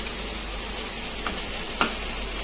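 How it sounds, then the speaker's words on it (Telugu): Garam masala being stirred into a simmering chicken and cowpea curry in a pan, a soft, steady sizzle with a couple of faint scraping strokes from the spoon, close and quiet. "గరం మసాలా, వేసేసి కలిపేసుకోవాలి."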